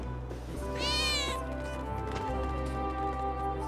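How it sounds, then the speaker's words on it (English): Single drawn-out cat meow in the video game Final Fantasy 7 Remake, a rising then falling cry lasting about half a second, clear over a low steady background hum and music. "That was definitely a cat."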